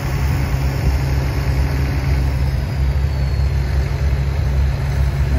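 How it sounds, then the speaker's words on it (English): A Farmall 1963 Model 706 tractor engine runs steadily at idle, a low continuous rumble with a constant drone and no pauses, at an antique tractor parade. "Now I have Mr. McNamara's wife driving a Farmall 1963 Model 706."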